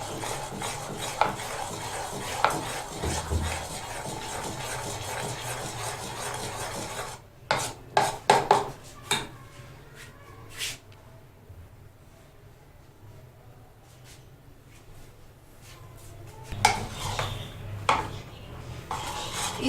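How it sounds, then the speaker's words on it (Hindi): Oil being beaten into mango cake batter in a bowl, heard as steady rasping, scraping strokes for the first seven seconds, then a pause broken by a few sharp clinks of the utensil against the bowl, and scraping again near the end. "इसमें हमने ऑयल डालकर या घी मक्खन जो भी डालेंगे उसको इतना बीट करना है कि ये अच्छी तरह इस तरह का मिक्सचर तैयार हो जाए"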